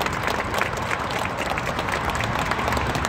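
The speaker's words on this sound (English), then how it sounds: "Can we please give him a round of applause?" A crowd at an outdoor ceremony marking completed renovations of the East River Esplanade gives a round of applause, a dense steady clatter of clapping with some low rumble and crowd noise beneath.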